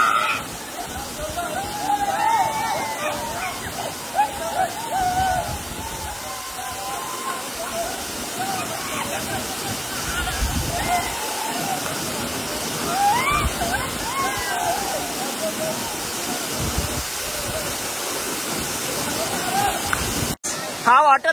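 Subhedar waterfall near Murbad roars with a steady, close, broadband rush of falling water that continues the whole time, while voices murmur faintly beneath it.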